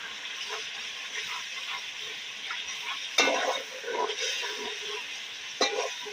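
Tomatoes with ginger garlic paste and chopped green chilies are stirred in a pot, a soft steady sizzle with occasional sharper clinks and scrapes of the spoon against the pot.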